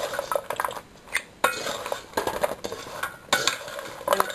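A crispy tea-time snack mixture stirred in a pan, repeated scraping and clattering of a utensil against metal in an uneven rhythm, with a faint sizzle underneath.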